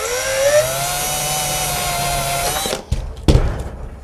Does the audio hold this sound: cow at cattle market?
no